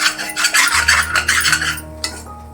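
Methi bhaji is tossed and stirred in a pan in quick rasping scrapes that sound close and fairly loud, then it stops with one last knock as a low hum continues.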